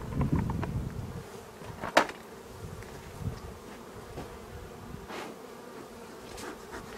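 Honey bees from a small swarm buzz steadily around their hive box, a continuous insect hum with a few louder close passes as individual bees fly near, recorded outdoors without talk.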